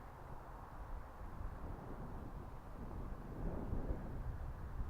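Wind gusting across open ground at Yate Common, a steady low rumbling roar buffeting the microphone that swells slightly toward the end, alone with no talk.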